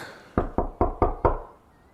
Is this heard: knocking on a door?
yes